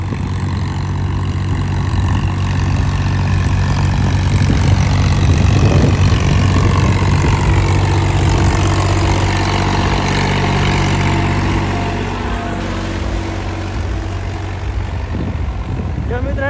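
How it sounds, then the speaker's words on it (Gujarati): A loud diesel tractor roars at steady, heavy load while dragging a deep tine harrow in low gear through a castor field, the engine note easing slightly near the end. "હવે જો ટ્રેક્ટર કેવી રાડ પડે"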